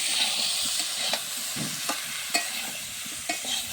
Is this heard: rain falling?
no